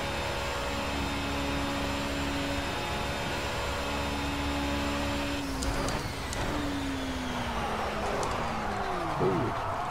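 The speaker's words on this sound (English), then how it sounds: "I'm going to try and brake at what I would consider my usual braking point for this car around this particular corner coming up" Race car in Project Cars held at a steady engine drone before braking for a corner, the tone dropping and whining downward near the end as the car slows.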